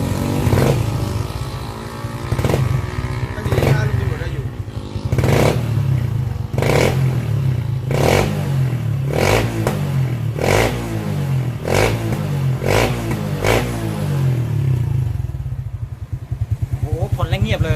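Motorcycle fitted with an aftermarket exhaust pipe revving repeatedly, about a dozen sharp throttle blips at a steady rhythm over a low idling rumble, with someone talking between them.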